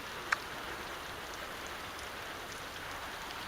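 Steady outdoor rain falls in a continuous, even hiss, moderately close, with one brief sharper drop or tap near the start and no voices.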